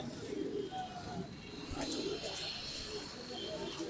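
Pigeons coo at a pigeon market in Mirpur-1, Dhaka: soft, low repeated coos at moderate distance within a continuous crowded market background.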